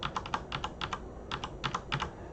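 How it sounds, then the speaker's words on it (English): Rapid clusters of light plastic clicks from arrow keys pressed on a computer keyboard, tapping in quick irregular bursts close up over faint background hiss. "you can do that by pressing up and down arrow keys on your keyboard"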